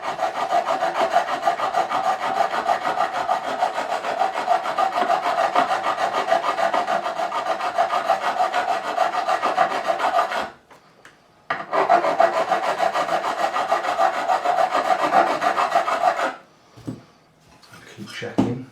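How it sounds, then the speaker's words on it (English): A diamond file rasps back and forth across the frets of a Fender Telecaster, steady rhythmic scraping strokes close by that stop briefly twice before resuming. "What I can do is take over these frets and go with the diamond file."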